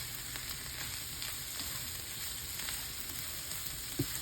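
Ampalaya and egg fry in a pan with a steady, close crackling sizzle, a soft tap near the end.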